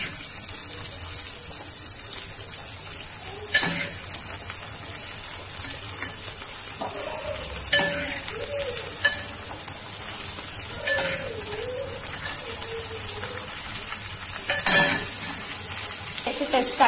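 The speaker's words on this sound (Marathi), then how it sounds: "तर यामध्ये मी जे आपण उकडून घेतलेले गाजर मटर ते टाकते" Boiled carrots and peas hit a pan of browned onion and sizzle steadily while being stirred. Several sharper scraping clatters stand out above the frying, along with faint background sounds.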